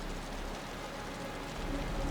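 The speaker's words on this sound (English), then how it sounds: "The rain's getting heavier." Steady rain falls in the Wuthering Waves video game, a soft continuous wash of drops that thickens slightly toward the end, with no voices over it.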